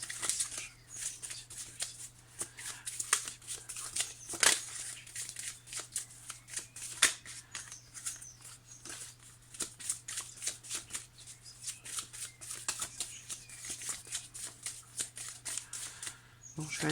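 Tarot cards are shuffled continuously by hand, a steady close patter of soft flicks and riffles running the whole time under a low background hum.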